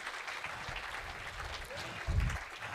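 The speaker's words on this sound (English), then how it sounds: "as people clap their kitten paws together" An audience at a live presentation claps steadily at a moderate distance, a soft continuous patter with a brief low thump near the end and no clear voices.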